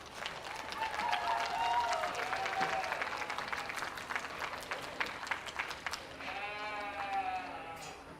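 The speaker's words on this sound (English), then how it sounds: "Big round of applause." Crowd applause at a school livestock show for sheep and goats, sustained clapping from the audience mixed with bleating animals calling out nearby, including a clear bleat near the end, with a voice talking over it.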